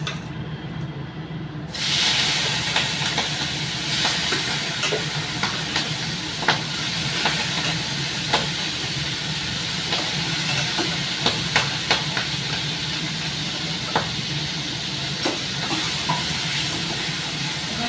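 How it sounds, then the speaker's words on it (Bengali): Shrimp frying in hot oil on a gas stove, a steady loud sizzle and hiss with scattered crackling pops throughout, starting after a brief quieter moment at the beginning. "এই চিংড়ি মাছটা ভেজে নেব"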